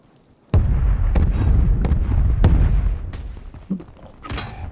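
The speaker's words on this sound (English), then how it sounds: "I airstrike them." Video game airstrike: a sudden deep booming explosion followed by a string of heavy blasts roughly every half second to second, loud and rumbling, fading into smaller pops near the end.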